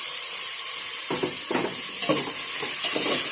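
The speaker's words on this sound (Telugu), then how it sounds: "దీన్ని బాగా ఫ్రై చేయాలి బాగా వేపాలి" Tomatoes and onions frying in a pan, a steady broadband sizzle with the hiss of steam and a few stirring scrapes and clinks, close and continuous with no voices.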